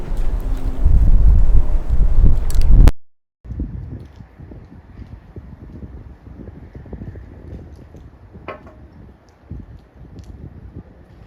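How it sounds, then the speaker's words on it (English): Outdoor wind buffets the microphone with a loud low rumble for a few seconds, then drops abruptly to a softer, gusty rustling noise that continues in the background. "The wind wants to blow, so I'm going to protect you from the wind."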